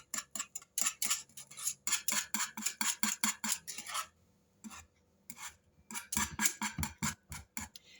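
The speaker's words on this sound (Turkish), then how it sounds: "Altı tutmasın diye karıştırarak pişiriyorum." A spoon stirs a fruit dessert mixture cooking in a pot over low heat, with rapid rhythmic scraping strokes against the pot, a short pause midway, then more stirring, close and clear.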